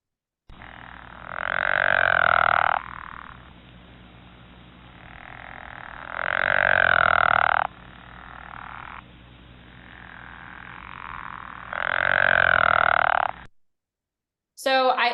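Low-pitched, drawn-out snoring croaks of a frog heard near the water, three long calls with quieter rasping between them, fairly close and steady, with no talking over them.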